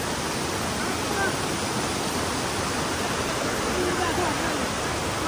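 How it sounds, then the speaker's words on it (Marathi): Loud, dense roar of rushing water at a hidden waterfall, a constant broadband wash close by that fills the whole stretch, with a voice buried faintly beneath it. "पाण्याचा आवाज इतका येतोय की माझा आवाज तुम्हाला येतच नसेल."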